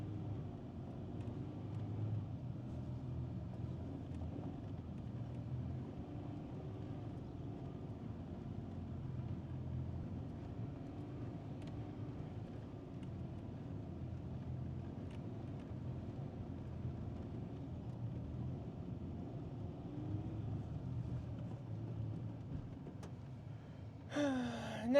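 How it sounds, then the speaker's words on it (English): An old Mazda car engine labours steadily in a deep, wet muddy rut, a low continuous rumbling drone holding for the whole stretch, with a brief louder burst right at the end. "Get the old Mazda trying."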